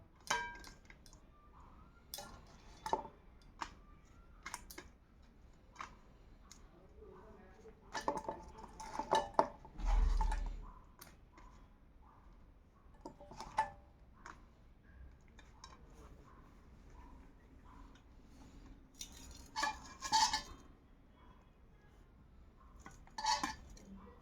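Dishes and cutlery clink and tap intermittently as a dinner plate is set out with aloo kosha and parathas, scattered sharp clinks of varied loudness with a few louder clatters near the middle, a voice speaking softly at times.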